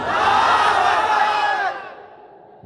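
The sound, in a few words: crowd shouting takbir in response at a sermon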